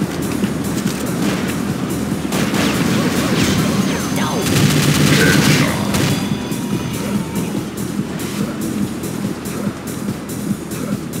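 Sustained automatic gunfire in Unreal Tournament with Counter-Strike weapons pounds steadily, loud and close, with booming impacts and a dense stretch of rapid shots over continuous battle noise.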